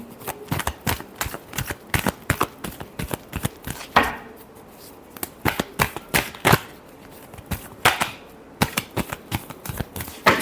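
Tarot cards are shuffled in a rapid run of sharp riffling clicks and slaps, pausing briefly before starting again, close and loud.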